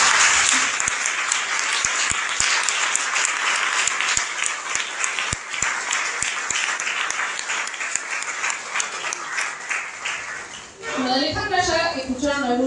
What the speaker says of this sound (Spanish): les damos la bienvenida, les damos las gracias y les damos un aplauso